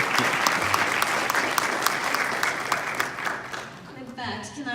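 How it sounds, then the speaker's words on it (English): Audience applause after a motivational speech on setbacks and leadership, a loud, dense wash of clapping from a large crowd that carries on steadily, then thins as a voice begins speaking near the end. "Let's have another round of applause for us."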